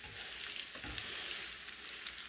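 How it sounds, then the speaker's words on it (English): Pork belly sizzling in a pan while cooking carbonara, a steady soft crackling hiss with faint stirring, fairly quiet and with no voices. "you should be hearing like a nice sizzle. Hear that sizzle?"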